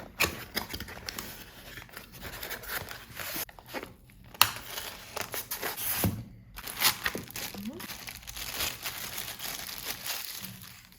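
Crinkling and tearing of plastic packaging as a Scottish garden gnome figurine is carefully unwrapped, with irregular rustles and crunches close by, mixed with light handling noises.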